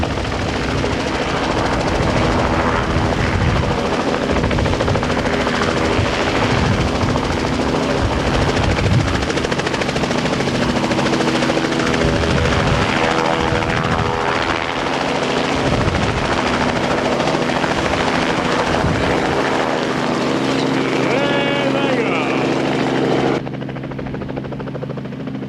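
A helicopter's rotors and turbine roar loud and close, throbbing steadily as the aircraft revs up before lift-off, ending in a sudden cut.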